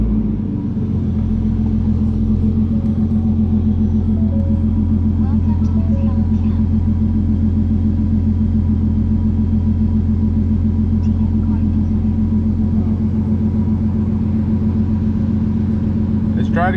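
A car engine fitted with an N2MB WOT Box runs steadily at a low idle, a loud, close, continuous rumble that holds even throughout.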